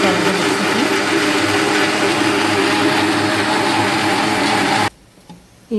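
Mixer grinder whirs loud and steady close by, blending chopped tomatoes with a little fenugreek into a smooth paste, then stops abruptly and falls quiet.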